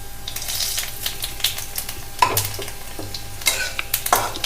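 Crackling, spitting sizzle of nigella seeds and two chillies frying in hot oil, broken by a few sharp scraping and stirring clicks from a utensil.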